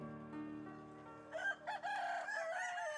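Chickens on a sand-bedded poultry farm beside a river dike, with a rooster crowing loudly and close amid steady layered clucking and calls, no talking.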